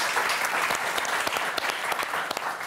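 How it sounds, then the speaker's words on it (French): Studio audience on the French game show Motus gives steady, lively clapping, a dense crowd of hands at moderate distance that continues without pause. "Daniel, qu'on applaudit très fort."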